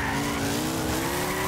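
A BMW drifting in Gran Turismo 6 gives a sustained, close tire squeal over a steady engine tone that rises slightly in pitch, with no pause throughout.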